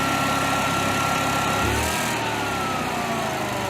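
A Generac Honeywell generator engine with an overspeed fault runs steadily up close, its droning hum shifting pitch partway through as the speed surges and settles.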